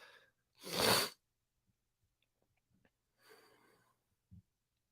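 A single sharp sneeze close by, followed by quiet breathing and a soft exhale, then a small click.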